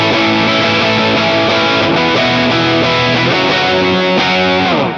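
Distorted electric guitar played through a Line 6 Helix with tube screamer overdrive and quarter-note delay, sustained chords changing in a steady progression with a delay wash behind them, loud and close, no voices.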